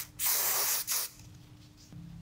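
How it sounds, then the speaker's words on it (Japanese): Hair spray hisses onto hair while a retro hairstyle is styled in a salon, two close, loud bursts of spray with a short break, then a quiet room afterward. "スプレーをしても大丈夫ですか？"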